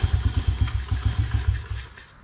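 A Honda CRF70 dirt bike with a four-stroke engine sputters and chugs in a quick, rhythmic burst during a kick-start attempt. It sounds loud and close, then fades off as it fails to catch, with no talking.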